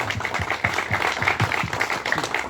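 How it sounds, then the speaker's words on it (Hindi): A crowd at a felicitation event for a Ranchi army recruitment candidate breaks into brisk, rhythmic clapping, a close and lively patter of many hands that runs unbroken for a couple of seconds. "चलिए जोरदार तालियां।"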